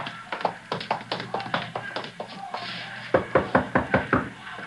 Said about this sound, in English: You're knocking on the door.